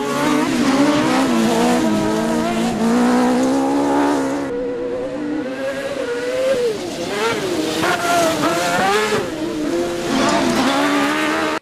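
Closed autocross race cars disguised as touring cars, maxi-tourisme class, roar loudly around the Saint-Georges-de-Montaigu circuit at a European championship round, engines howling and shifting pitch continuously with occasional tire squeal, with a commentator's voice underneath.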